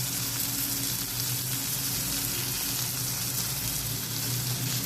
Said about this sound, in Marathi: नंतर सर्व मिश्रण हलवून घेऊया.